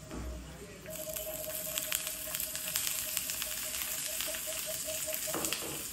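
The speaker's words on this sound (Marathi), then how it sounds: "ते फ्राय करून घ्यायचं आहे" Green chilies, garlic and ginger sizzle and fry in oil in a pan for thecha, a steady close crackling hiss running the whole time with faint stirring taps.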